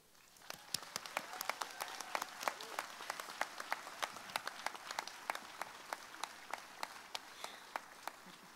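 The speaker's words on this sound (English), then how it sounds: "I would like to ask you to join me in giving a round of applause to" Commencement audience applauding graduates' families, with distinct claps in a steady, fairly sparse rhythm, moderately close, continuing throughout with no talking over it.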